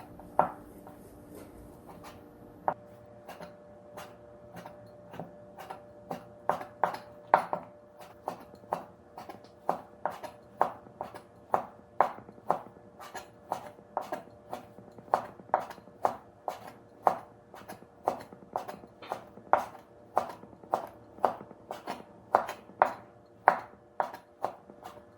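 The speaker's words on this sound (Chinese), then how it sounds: "一块猪肉145克重，我们把它切成片儿。" A knife slices a 145-gram piece of pork into thin pieces on a cutting board, making a long, steady series of crisp, close taps against the board at an even, unhurried rhythm.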